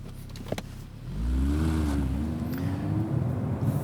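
The V8 engine of a 2016 Audi R8 Coupe bursts into life with a loud rumble, then settles into a throaty, burbling idle that stays close and loud.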